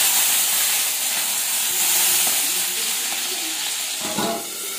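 Okra sizzles in hot oil with a loud, steady hiss of frying that runs throughout, with a brief clatter near the end.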